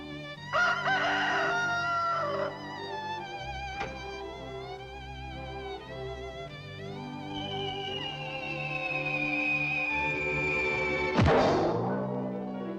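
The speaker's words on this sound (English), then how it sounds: "before the sun comes up and you hear a rooster crow in the morning" A rooster crows at length over a dense, busy background, followed by a sharp thump near the end.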